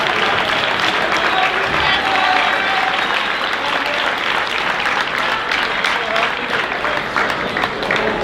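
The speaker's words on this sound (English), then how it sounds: "Huge round of applause." Sustained, dense applause from a large student audience at a Winslow High School recognition assembly, with clapping steady and loud throughout and crowd noise mixed in.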